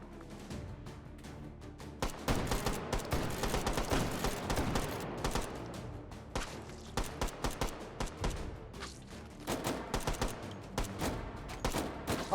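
Trench gun shotgun fire in H3VR: a rapid, uneven barrage of loud, sharp blasts, several clustered close together, with a short lull before more shots crack out.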